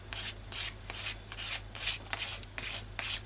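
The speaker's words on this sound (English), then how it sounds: "So just a thin scraping over the top just to tone it back a little bit" Thin scraping strokes pass over a printed collage surface, eight or so evenly spaced rasping passes in steady rhythm, close and fairly quiet with no talk.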